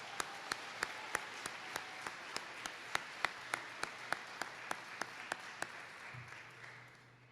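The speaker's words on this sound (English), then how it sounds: "I'd like the men of Ginn Academy to give a round of applause to your families that have prayed for you to get you here this far" Graduation audience applauding the families of Ginn Academy graduates, heard as a soft diffuse wash of clapping with a regular series of sharper, louder claps standing out near the front, tapering off toward the end.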